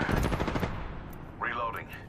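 Rapid automatic gunfire in a shooter game, a fast burst of sharp cracks in the first half second that fades out, followed by a brief rising-and-falling tonal game sound.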